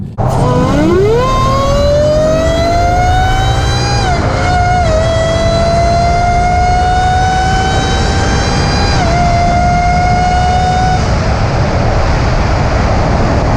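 A supercharged Whipple 2018 Ford Mustang GT accelerates hard, its engine and supercharger whine climbing in pitch through several gear changes, loud and close from inside the car, then easing off.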